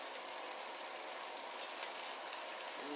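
Raw shrimp mini burgers frying gently in a pan on medium-low heat give off a steady, even sizzle, close and continuous, with a faint clink near the end.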